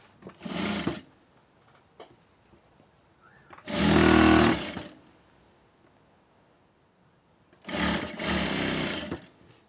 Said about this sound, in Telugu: హెమ్మింగ్ చేసే పని లేకుండా పై కుట్టు అనేది వేసుకోవాలి.